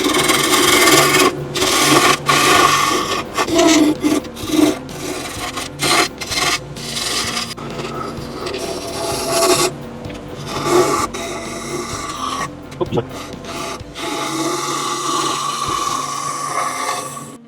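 Sandpaper grinds loudly against a wooden Gandalf pipe spinning on a woodturning lathe, a close, continuous rasping hiss that rises and falls with pressure over the lathe's steady hum, with no one talking.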